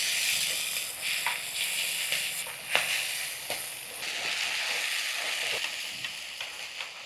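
Tomato and fenugreek leaves cooking in a pan over a medium flame, a soft steady sizzle with faint crackles and occasional pops, quiet and alone.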